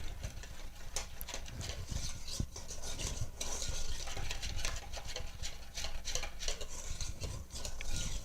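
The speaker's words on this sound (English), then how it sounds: "now we're going to go back over to the stove and stir our chocolate mixture" A spoon or whisk working through a simmering chocolate cream pie filling in a pan on the stove: soft, continuous scraping and swishing with irregular clinks, close and fairly quiet.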